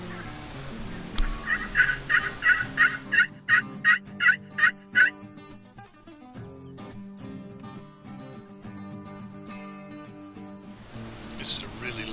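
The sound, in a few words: wild turkeys gobbling, loud hen calling with toms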